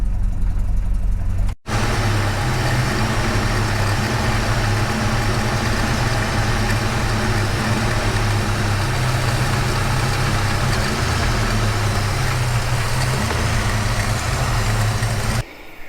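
A car engine idles steadily with its vacuum advance disconnected, a dense low rumble that runs loud and continuous nearly the whole time, broken only by a brief dropout early on.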